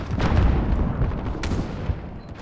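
Sniper rifle fire in Warzone, a loud booming shot with rumbling tail, followed by a sharper crack about a second later, fading into low background rumble, no talk.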